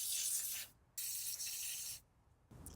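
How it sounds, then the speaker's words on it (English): WD-40 contact cleaner sprayed onto a dirty connector during a Toyota Sienna valve cover gasket job, heard as two close hissing bursts with a brief pause between and a third starting at the end. "I'm gonna use WD-40 contact cleaner."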